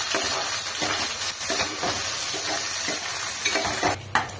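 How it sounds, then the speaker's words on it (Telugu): Small dried fish (nethallu) frying in a pan, with a constant loud close sizzle broken by repeated scraping strokes of a spatula against the metal. "నెత్తాళ్ళు అనేది మనము ఫస్ట్ వేయించుకోవాలన్నమాట"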